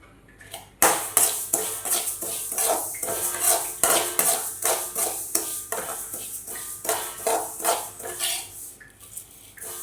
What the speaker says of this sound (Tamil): அந்த சட சட சடன்னு சவுண்ட் வர அளவுக்கு நீங்கள் நல்லா வறுத்தெடுத்துக்கோங்க